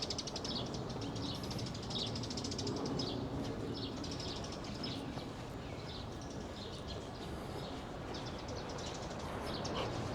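Birds sing in the garden of Mugagsa Temple in Gwangju, South Korea, scattered chirps and tweets over a steady, broad outdoor hiss that runs the whole time.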